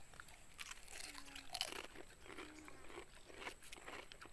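A crunchy snack being chewed: faint, close crunches repeat in an uneven rhythm over a quiet room background.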